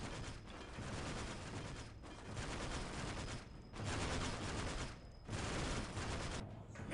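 Heavy bolters in Warhammer 40k: Dawn of War – Dark Crusade fire in long, loud, sustained automatic bursts. Brief lulls separate the bursts, with no voices over the gunfire.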